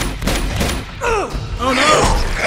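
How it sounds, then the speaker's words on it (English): Bursts of gunfire from the Uncharted 2 video game, with rapid shots and thuds over a busy mix, mingled with brief vocal sounds. "Keep shooting it in the head."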